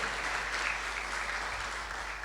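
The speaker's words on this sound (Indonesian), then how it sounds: "Tepuk tangan buat Tuhan Yesus." Congregation clapping together in a GPdI church during a Sunday worship service, a dense, steady wash of applause that holds at an even level throughout with no voices standing out.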